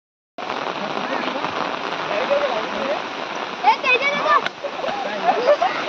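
Steady rain falls over an outdoor cricket match, a continuous broadband patter that runs throughout with voices talking over it and a few brief louder splashes near the end.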